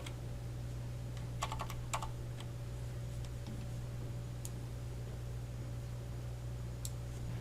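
Computer keyboard keystrokes pressing Ctrl T in Photoshop: a few quick clustered clicks near the start, then sparse single taps over a steady electrical hum, with no talking.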